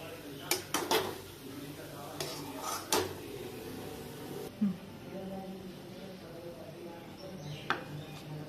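Wheat-flour sheera is scraped from a pan onto a plate in a Maharashtrian home kitchen, giving a few sharp metallic clinks and taps amid quiet kitchen background, with a soft voice faintly underneath.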